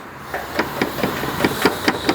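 A loose rear exhaust on a Renault Megane, its mounting bolt worked free, rattles in a quick irregular series of sharp metallic knocks close by, over a low idling engine hum.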